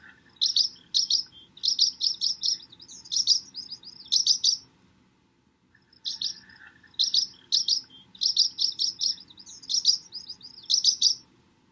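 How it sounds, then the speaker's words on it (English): Barn swallow (Hirundo rustica) giving high-pitched chirps and calls in quick bursts of twittering notes, two clear runs separated by a short pause, fairly close and loud over a faint low background hum. "this is a clip of the high-pitched chirps and calls"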